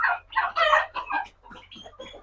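Native chickens on a small poultry farm clucking close by, a run of loud, choppy clucks and squawks from several birds over a quiet background.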